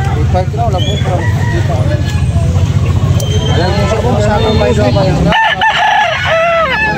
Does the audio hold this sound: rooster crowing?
yes